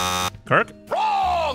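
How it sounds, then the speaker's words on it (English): A harsh, sustained electronic buzzer blares for a debate-show disagreement, then a voice speaks briefly and a second long buzz sounds, all close and loud. "But we should hear everyone's buzzer before we go on."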